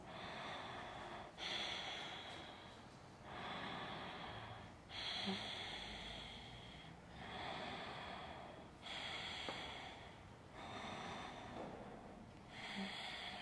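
Long, smooth deep breathing in a Forrest yoga lunge, about seven drawn-out breaths in a steady rhythm, close and airy, alone with no talking.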